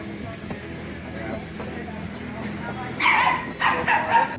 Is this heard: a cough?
no